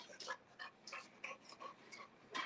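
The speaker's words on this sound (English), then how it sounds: "These dogs like to eat rope." Dogs panting and whimpering close by in a room, a string of short breathy huffs and soft whines in uneven bursts.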